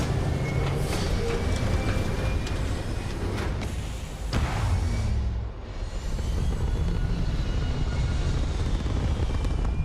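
Spaceship engines roar through a liftoff in the video game Starfield, a loud continuous rumble that dips briefly midway and then swells again, with no voices.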